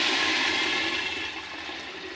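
Water is poured into a roasting pan while cooking Coorg-style medicinal puttu, a steady, full rushing splash that stays close and continuous, gradually easing slightly in volume.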